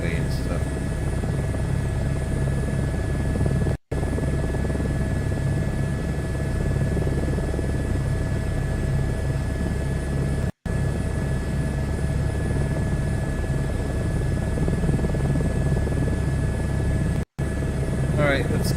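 Steady propeller engine drone of a Cessna taxiing in Microsoft Flight Simulator 2024, a continuous even hum with a high whine, broken by three brief dropouts and no talk.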